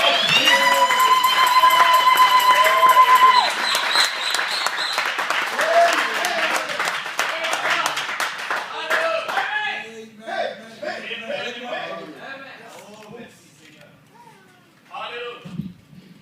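Church congregation claps and cheers in a loud sustained burst, with music ringing underneath, then settles into scattered clapping and a preacher's voice speaking in French.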